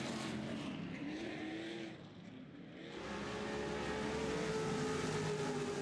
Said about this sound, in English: Welchel spins out of the last corner